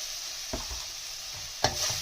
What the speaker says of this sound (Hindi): इसको हम स्लो स्लो से लाइट फ्राई करेंगे